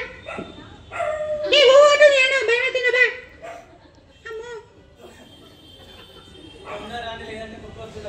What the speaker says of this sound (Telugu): కుక్కొచ్చేటట్టుంది.